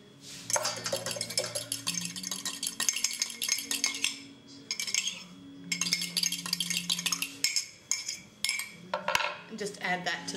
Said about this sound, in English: The next thing I do is break an egg into a cup and beat that with a fork.